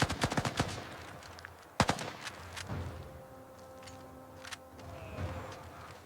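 Gunfire effect in an animated battle where ants fire weapons at a scorpion: a rapid burst of shots opens, then a single loud crack, followed by quieter scattered shots over a low rumbling background.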